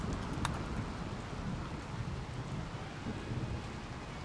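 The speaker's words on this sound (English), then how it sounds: "Toxic rain." Toxic rain falling in the game Rimworld, a dense, steady hiss of rainfall with a low rumble beneath and a faint tick near the start, constant throughout.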